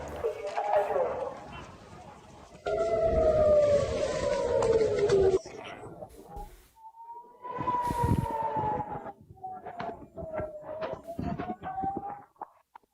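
A wailing siren rises and falls in the background, mixed with muffled voices, commotion and clattering noises.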